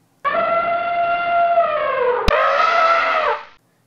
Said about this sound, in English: Did you say an elephant?